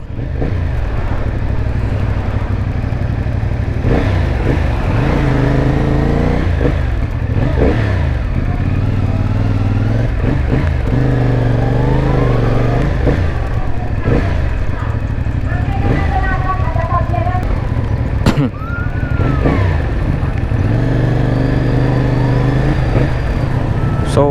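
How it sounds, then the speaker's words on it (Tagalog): A CF Moto 450NK motorcycle engine revs repeatedly, rising and falling in pitch with each throttle blip, loud and close, with someone talking over it at times. "So 'yon gamit natin itong motor natin so ganda talaga nung tunog niya guys Ducati style"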